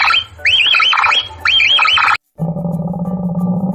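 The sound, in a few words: capybara sound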